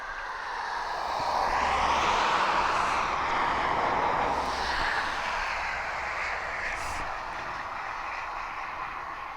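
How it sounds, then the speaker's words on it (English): A Reims/Cessna F406 Caravan twin-turboprop circling near East Midlands Airport produces a moderate, steady engine drone that swells and recedes with its turns, heard from some distance with no one talking. "It's a Ream/Cessna F406 Caravan."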